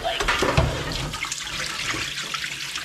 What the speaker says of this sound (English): I think we just run the water over it a couple of times, rinse it, and then fill it.